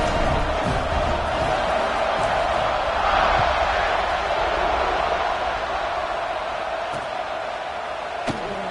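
A football stadium crowd roars steadily in a broad, sustained wash of cheering that holds at an even level throughout, with a slight swell in the middle and a sharp knock near the end.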